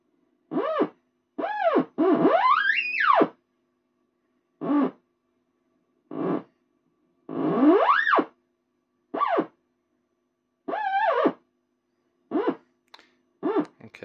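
Original 1960s Sonic Wave theremin unit plays a series of short, gliding pitched tones with wavering swoops, near and loud, separated by brief silences.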